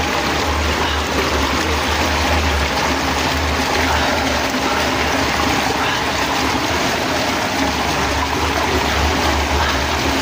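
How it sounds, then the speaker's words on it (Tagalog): Loud, constant rush of strongly flowing stream water fills the scene, a dense roar with no breaks and no voices. "Malakas yung tubig."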